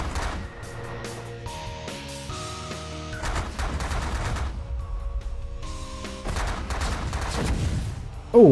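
Rapid turret gunfire in the space strategy game The Last Federation, repeated bursts of shots over a steady tonal electronic hum and game music, with no talking.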